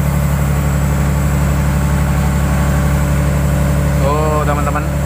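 An old vehicle's engine runs loud and close with a continuous heavy drone, held at raised revs throughout, while someone speaks over it near the end.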